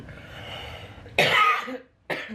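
A harsh, close cough bursts out in strong wind, followed after a short pause by a second shorter cough.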